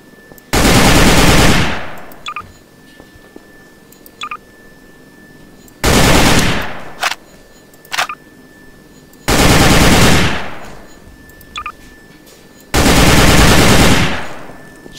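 Automatic gunfire in Garry's Mod comes in four long, loud sustained bursts separated by brief pauses, with a few short isolated shots between them.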